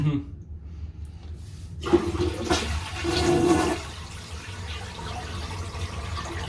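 A home toilet, its supply valve shut off, is flushed with the handle held down: quiet at first, then a gurgling rush of draining water swells and fades to a steady trickle, close up with no voices.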